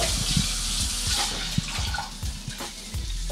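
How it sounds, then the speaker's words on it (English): Running tap water splashes over a dish being rinsed in a sink, a steady close wash of water with intermittent clinks and handling knocks throughout. "So you just rinse your dish off."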